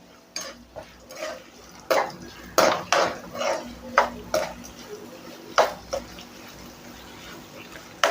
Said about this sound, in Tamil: ஒரு பெரிய வெங்காயம் கட் பண்ணி வச்சுருக்கேன் அதை போட்டுடுறேன் இப்போது வதக்கி விட்டுக்கலாம் நல்லா